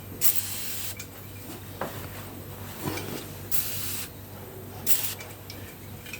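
Short bursts of spray hissing over Harley compensating nut and clutch nut parts during a wash-off, several close sprays separated by brief pauses against a quiet background.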